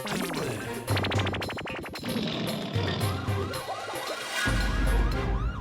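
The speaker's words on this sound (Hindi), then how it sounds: "सायरन की आवाज।" A siren wails in repeated rising-and-falling sweeps amid busy mixed noise at a construction site, rapid mechanical clatter and low rumbles, fairly loud and close.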